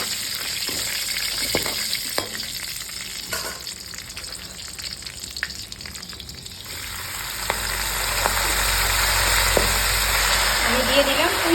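Dried red chillies and Bengali five-spice crackle and sizzle in hot oil as a tempering, with steady close frying noise, a few spoon clicks, and the sizzle swelling louder toward the end.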